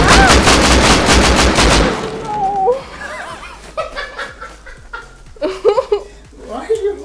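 Gunfire aimed at a bear in the survival game Rust, a rapid burst of shots at the start followed by scattered single shots, with people talking and laughing over it.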